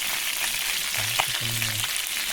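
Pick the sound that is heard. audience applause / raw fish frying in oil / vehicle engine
raw fish frying in oil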